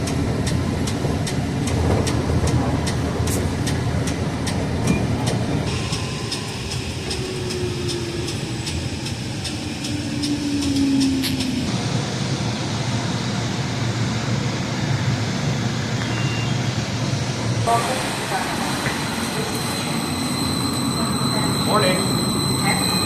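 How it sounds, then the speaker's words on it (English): An NJ Transit commuter train pulls into a station, a continuous rumble and rolling noise with high squeals and tonal hums shifting over about twenty seconds, fairly loud and close. "the train that's just behind me is the last damn flyer of the morning"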